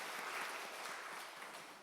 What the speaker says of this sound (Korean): 또 수고한 우리 찬양대와 지휘자에게 함께 격려와 박수를 드립니다